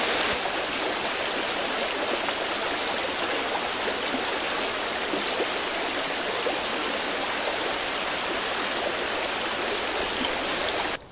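Stream water pours steadily into a cup held in the current, a constant close broadband rush and splash that holds unchanged for about eleven seconds.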